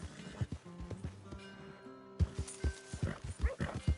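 A horse in the Red Dead Redemption 2 video game whinnies in a long, wavering neigh, then hooves clip-clop in quick, heavy beats close by.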